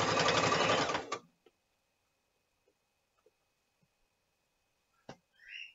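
A sewing machine stitches a seam on a fabric bolster in a quick, rapid rattling burst of about a second, then stops, leaving near silence broken by a few faint clicks and a small handling noise.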